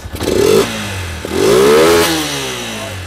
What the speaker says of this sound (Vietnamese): Anh em nghe lực máy luôn anh em ha.